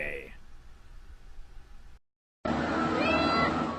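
Cats meowing at an animal rescue shelter during a hurricane, a high meow at the start under room noise, a brief silent gap, then a louder stretch with further thin cries.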